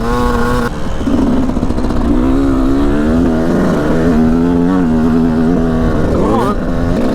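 A motocross dirt bike ridden on a track, its engine revving loud and near with rising and falling pitch through gear changes, holding steady across the whole stretch.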